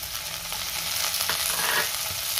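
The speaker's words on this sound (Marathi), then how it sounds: "आता त्यातच आपल्याला टोमॅटो घालायचा आहे" Chopped tomato sautés with onion in a hot pan, a steady close sizzle and frying hiss with occasional stirring scrapes, continuous and unaccompanied by speech.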